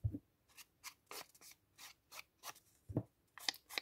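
Scissors cutting kraft paper for a junk journal envelope, a quiet, steady series of crisp snips and rasping slices about twice a second, close up with no talk.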